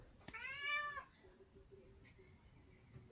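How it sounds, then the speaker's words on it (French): A house cat gives one clear, drawn-out meow up close, followed by quieter room sounds and faint background noise. "Linus qui miaule tout le temps."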